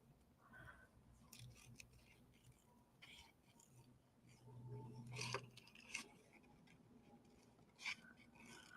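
Scissors snipping through paper or craft material close by, soft scratchy cuts with a few crisp snips, faint and intimate against a quiet room with low background hum.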